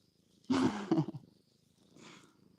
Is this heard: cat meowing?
yes